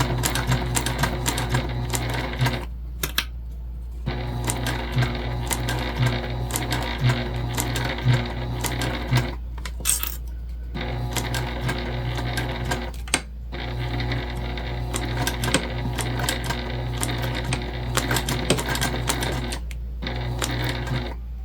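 A Juki TL-2010Q sewing machine stitches through leather in a fast, steady mechanical rattle that runs in long bursts, broken by a few short pauses, close up and without speech.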